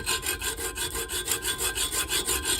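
Hacksaw cutting a screwdriver groove into a motorcycle part, a steady back-and-forth rasp with even, quick strokes, close and alone.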